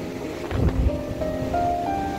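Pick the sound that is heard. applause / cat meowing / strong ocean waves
strong ocean waves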